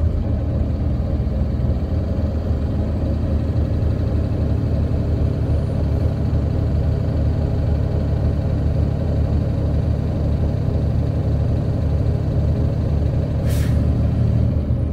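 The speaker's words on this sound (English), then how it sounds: "I'm gonna accelerate to 1500 RPM to bring my tank up above 120 to full." Truck engine held at about 1500 RPM to build air brake tank pressure, a steady, loud, close diesel drone that runs unbroken for the whole stretch with no talking.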